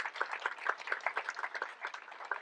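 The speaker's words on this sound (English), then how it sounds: "So a round of applause for all the hardworking actors in that." A small crowd claps at an outdoor Pride event in Langley, quick rhythmic clapping from a modest group, fairly faint and distant, steady for a couple of seconds.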